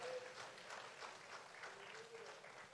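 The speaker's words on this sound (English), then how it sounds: "let's clap unto the Savior" A church congregation claps together during a worship service, a steady faint wash of hand claps with a faint sustained voice or tone running underneath.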